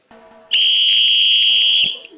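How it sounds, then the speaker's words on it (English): A whistle blown in one long, loud, shrill blast lasting over a second, preceded by a faint low hum, then cutting off abruptly. "In fact, can borrow your whistle."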